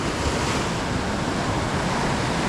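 Water surges and washes over sand along an Australian shoreline, a continuous broadband rush of surf mixed with wind buffeting the microphone, loud and steady without pauses.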